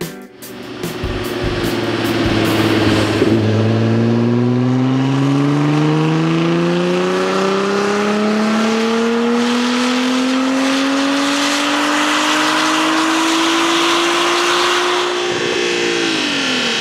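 A supercar's engine is revved hard on a dyno, a loud droning roar climbing steadily in pitch through the gears for many seconds, then easing off near the end.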